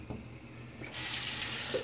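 Water from a bathroom tap starts running to rinse a safety razor, a quiet hiss swelling into a steady, close splashing stream.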